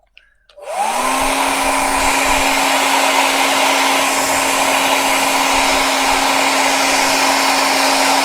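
A hair dryer drying wet watercolor paint switches on with a brief rising whir, then holds a loud, steady, close blowing hum throughout with no speech.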